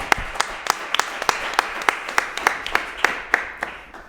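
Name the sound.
audience applause for the speaker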